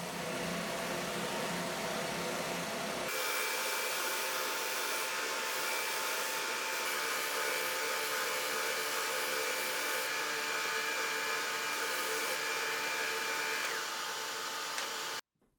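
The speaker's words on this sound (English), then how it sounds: "I'll use my benchtop sander to refine the template" Benchtop sander shaping a wooden template, a loud steady motor whine that drops to a higher, thinner drone once the wood meets the belt, then cuts off abruptly near the end.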